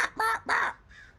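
A human voice imitates a crow's cawing with three harsh, nasal calls: two loud close caws in quick succession, then a fainter, shorter one.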